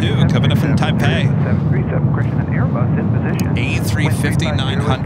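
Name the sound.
airliner at LAX airport during live plane spotting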